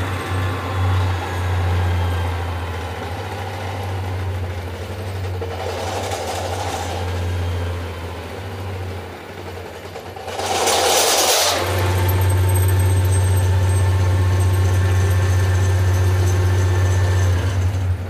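A Bosch 120 amp alternator spinning on a test bench, a loud steady low-pitched drone with a brief whooshing surge midway before the hum settles back in, no voices.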